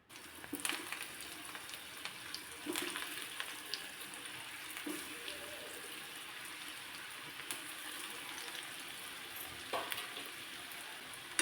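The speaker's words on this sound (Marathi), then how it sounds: "तेल चांगलं तापल्यानंतर यामध्ये कटलेट घालायचे सगळे" Cutlets frying in hot oil in a pan over a low flame, a steady, quiet sizzle running throughout with a few sharper crackles and pops.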